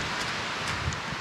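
Sleet or hail falls outdoors in cold mountain weather, a steady dense patter and hiss with wind noise blowing across the microphone, continuous and fairly loud, with no voices.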